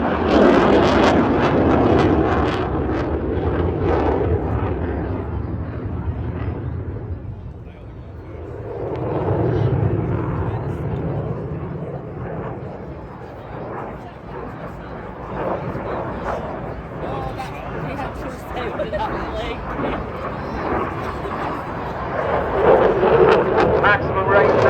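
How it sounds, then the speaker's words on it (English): RAF aerobatic display aircraft rolling overhead at the Blackpool airshow, a loud continuous engine roar that swells and fades as it passes, with a commentator talking over it throughout. "Rolling the aircraft into top side."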